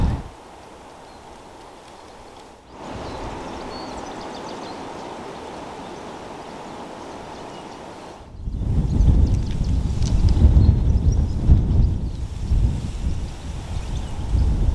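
Wind blowing on a sunny Cotswold hill walk on Bredon Hill, a rough rushing noise against the microphone that starts moderate, dips briefly and then surges louder and gustier in the second half.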